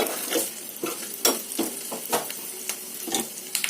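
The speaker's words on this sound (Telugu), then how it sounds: "ఇదైతే బాగా కలర్ వచ్చే వరకు వేపేసుకోవాలి." Coconut pieces frying in a pan, stirred with a spoon in irregular scraping strokes over a faint sizzle, close and clear.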